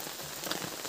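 Steady rain falls on a rural village, a dense, even patter of drops on surfaces, close and continuous with no voices.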